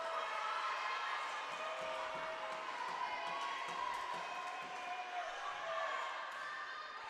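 A crowd at a women's college volleyball match keeps up continuous cheering and shouting, with occasional sharp thuds and claps mixed into the steady, echoing roar.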